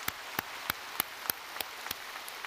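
A church congregation claps in a slow, regular rhythm during a Sunday service, each clap crisp but faint and distant, with no talking over it.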